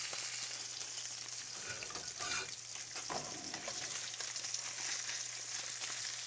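Tilapia pan-searing in a pan, a steady soft sizzle of frying with faint stirring or spatula scrapes, fairly quiet and close, no voices.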